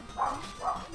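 Two quick barks from dogs in the Shovel Knight video game, evenly spaced and fairly loud over a faint background of game sound.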